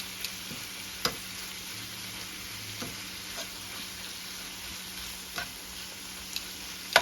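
Shrimp frying in garlic butter in a pan, a steady sizzle throughout with occasional scraping clicks as the pieces are moved around, close and fairly quiet, no talking.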